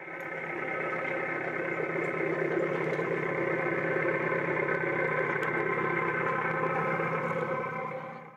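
A park railway locomotive on the Kleinerzgebirge Oederan miniature line runs with a steady, even engine drone, close and continuous from start to finish, with no voices over it.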